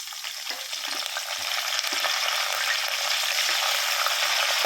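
A tempering of mustard seeds, cumin, fenugreek, green chilli and curry leaves fries in about four spoons of oil for a fish curry, a steady close sizzle with faint stirring that builds slightly louder.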